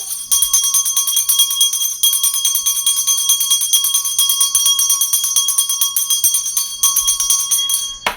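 A bright, ringing bell sounds loud and continuous, struck repeatedly in a fast, steady rhythm with shimmering high overtones, up close and alone for the whole stretch.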